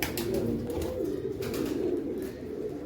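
Pet pigeons coo in low, throaty, repeated murmurs close by, steady throughout with a few brief higher chirps over the cooing.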